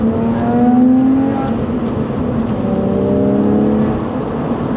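A Porsche 996 with a carbon intake revs and pulls hard nearby on an open road, the engine note rising in pitch through gears with a loud, raspy bark around 3,000 RPM.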